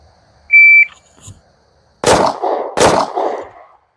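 A shot timer gives a single sharp electronic beep, and about a second later an FN Reflex 9mm pistol fires two loud, close gunshots with ringing echoes that trail off.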